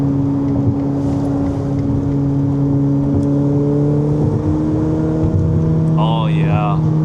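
A Ferrari being driven, heard from inside the cabin as a steady, loud engine drone with low, sustained tones that rise slightly in pitch, plus a brief chirping sound near the end.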